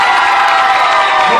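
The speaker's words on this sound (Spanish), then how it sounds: "un fuerte aplauso por todos mismos." A crowd at a school family day cheers and applauds, a loud, dense and continuous wash of clapping and voices filling the whole moment.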